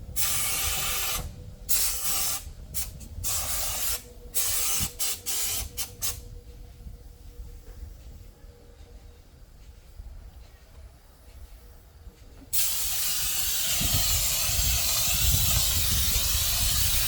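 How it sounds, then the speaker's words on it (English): Rustproofing coating sprayed onto a truck in a driveway, bursts of loud airy hissing in short pulses at first, then a quieter stretch of low noise, followed by a long, steady, strong spray hiss. "you guys can watch me spray"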